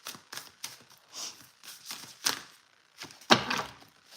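Quick papery riffles and soft slaps of cards being shuffled, several short bursts with brief pauses between, close up and fairly quiet.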